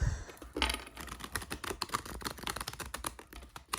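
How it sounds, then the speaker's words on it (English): Quick, soft papery clicks and flutters tumble in a rapid stream as a tarot deck is riffled and shuffled close by, with no talking. "Let's give the cards a little shuffle."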